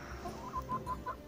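A few soft, quick clucks from a young rooster, close by but faint, in a short rhythmic series.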